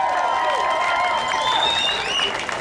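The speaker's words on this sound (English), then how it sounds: "Stop clapping." Clapping and scattered cheering from a crowd at an anti-war peace rally in Portland, Oregon, a dense continuous patter with a few whoops and whistles rising over it, fairly loud and steady.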